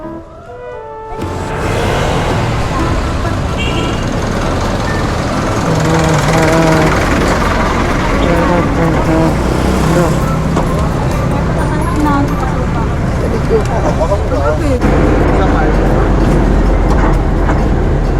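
Busy street-corner traffic while waiting for a jeepney, with engines rumbling and vehicles passing continuously at close range, with people talking now and then under the noise.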